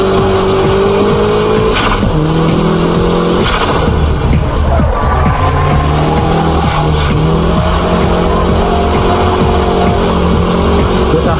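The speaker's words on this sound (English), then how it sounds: "Let's compare the high-speed drift and the show drift laps at Ebisu." A car drifts laps at Ebisu circuit, its loud engine revving and shifting pitch while the tires squeal and skid continuously right up close.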